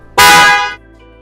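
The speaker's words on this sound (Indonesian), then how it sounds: "Oke, jadi itu yang namanya klakson Eropa" A European snail-type car horn gives one loud, bright blast lasting about half a second, then cuts off, heard close and alone.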